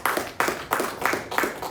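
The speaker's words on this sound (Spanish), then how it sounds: "Denle un aplauso, Señor" Worshippers in a church clap together in a brisk, even rhythm during a preacher's sermon, with several sharp, loud claps in quick succession and no talking over them.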